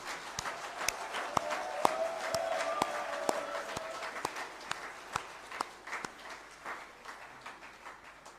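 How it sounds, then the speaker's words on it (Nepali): Clapping from a meeting audience at a political party event in Nepal, a scattered patter of hands with sharp individual claps standing out, steady for several seconds then thinning toward the end. "बेसरी सबैले अलिकति ताली बजाउनु पर्छ"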